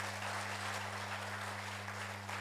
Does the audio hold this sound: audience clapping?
yes